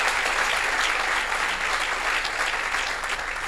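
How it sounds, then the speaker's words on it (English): Sustained audience applause at a bioengineering department celebration, a dense, steady clapping from a large crowd that holds level for several seconds and eases slightly near the end. "let's give all of these folks a big round of applause again"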